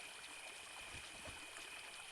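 Water flows steadily in the video game The Dark Rites of Arkham, a faint, continuous rushing stream with no voices over it.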